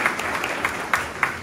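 Indoor audience applause at a dinner event, steady clapping with a few sharper claps standing out, moderately loud and sustained without speech.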